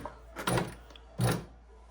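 A EuroProX Shark sewing machine squeaking as it runs, two short rubbing squeaks about a second apart, close and fairly quiet.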